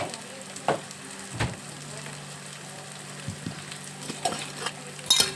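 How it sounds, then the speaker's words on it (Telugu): Tomatoes fry and sizzle in a pan for a dried fish curry, a steady close crackle broken by occasional clinks and scrapes of stirring. "టమాటా కూడా బాగా వేగాలి."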